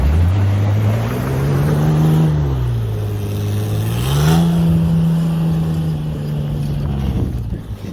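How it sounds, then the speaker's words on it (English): A truck in the snow idles and labours at low pitch as the engine is started in fifth gear, rising and sagging twice before it stalls, loud and close with no talk. "Nope, you stalled it."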